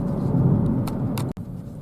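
A Jaguar car driving on a road in Italy toward a tunnel before the motorway gives a steady low road-and-engine rumble from inside the car, broken by a brief sharp dropout near the end.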